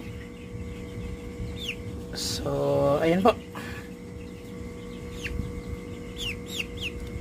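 Chickens kept by a battlecock breeder clucking and calling in short, repeated bursts across a farmyard, with a brief louder squawk in the middle and someone talking over them.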